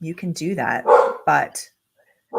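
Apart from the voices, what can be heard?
dog barking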